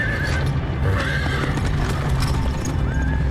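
Horse in the Lord of Mysteries anime giving a loud, shrill whinny over a busy, clattering background of hoof-like knocks and mechanical noise, with no talk.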